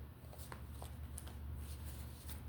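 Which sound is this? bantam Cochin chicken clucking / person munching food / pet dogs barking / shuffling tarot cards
shuffling tarot cards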